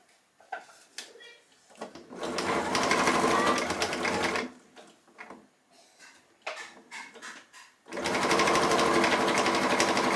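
A sewing machine runs in two long, loud stitching bursts, stitching around a fabric boot piece, with quieter handling noises and pauses between the runs.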